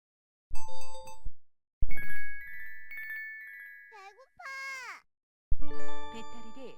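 Ringtones and effect sounds from a KTF EVER X9000 multiplayer mobile phone, bright synthetic tone melodies in short bursts with sharp stops and silent gaps, plus a brief warbling electronic effect.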